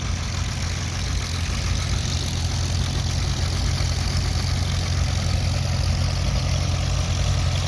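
A John Deere Model R tractor engine chugs steadily at a low, even idle throughout, loud and close, with no voices.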